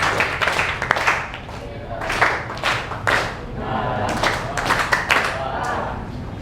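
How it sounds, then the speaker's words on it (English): Students clap their hands in a lecture hall, a scattered burst of applause in several uneven waves, with some talking mixed in beneath the clapping. "Clap your hands for Mr."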